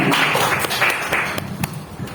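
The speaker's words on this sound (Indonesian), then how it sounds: "beri tepuk tangan buat Bapak Ibu sekalian" An audience of teachers applauds at a school gathering, a dense, continuous wash of many hands clapping at once, fairly loud and close, with scattered sharper claps standing out.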